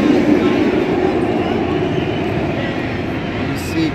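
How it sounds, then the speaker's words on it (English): The Runaway Mine Train roller coaster at Six Flags Great Adventure sends out a loud, continuous rumbling roar of cars rolling along the track. The roar stays fairly steady and fades slightly toward the end. "Why am I filming the Runaway Mine Train right now?"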